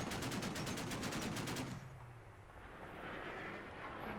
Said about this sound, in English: Here we come with some more artillery.